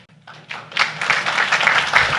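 Audience at a city council meeting in Carrollton breaks into applause, starting sparse and swelling into steady, dense clapping that fills the room and holds to the end, with no talking over it.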